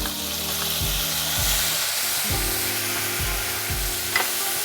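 Spices stirred with a splash of water in a frying pan, a continuous close sizzle with rhythmic scraping strokes of the spoon against the pan at a steady pace, no talking.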